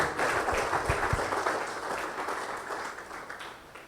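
Congregation applauding inside a Baptist church, a steady wash of many hands clapping that holds at moderate volume throughout, with no voices over it.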